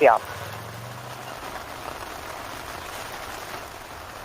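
Heavy rain pours steadily from morning, a dense continuous hiss of drops on surfaces that runs through the whole stretch at moderate level, with a brief low sound at the start.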